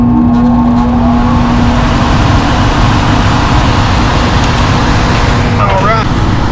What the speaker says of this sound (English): then it'll call for my blower motor